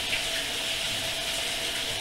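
A pool filter converted into a water pump runs steadily, giving an even, close hiss of flowing, splashing water with no pauses.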